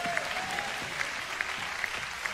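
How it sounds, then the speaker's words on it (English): Scattered clapping from a church congregation during a sermon, faint and distant, with sharp claps landing in a loose, roughly steady rhythm over a quiet room. "Can somebody clap your hands and can somebody shout amen?"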